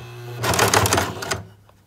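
A sewing machine stitches across the thick pleats of a fabric face mask, giving about a second of rapid, closely spaced mechanical clatter that starts abruptly and stops cleanly, with a low motor hum beneath.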